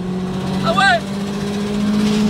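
Inside a 540 hp stage 4+ Subaru on semi-slick tyres, the engine drones steadily with its intake noise, and a short rising whoosh cuts in partway through; a voice speaks over it.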